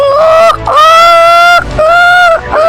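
A child imitates a chicken's call, giving three loud, drawn-out squawking cries close to the microphone with short breaks between them.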